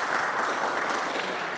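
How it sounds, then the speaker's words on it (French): A church congregation at a Lenten weekday Mass applauds together in a steady, dense wave of clapping that fills the room for the whole moment. "Applaudissez pour vous-même."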